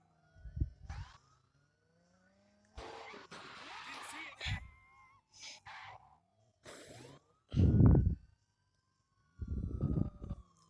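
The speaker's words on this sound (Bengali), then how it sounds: "আরে পুলিশের গাড়ি, দাঁড়া।" In a video game, a police car siren wails faintly in rising and falling sweeps, mixed with game effects and a voice speaking in bursts.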